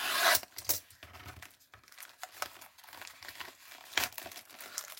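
A plastic package of mini figurines is torn open up close, with loud crinkling and ripping bursts at the start, then softer rustling and rubbing of the wrapper, and a sharp tear near the end; no talking.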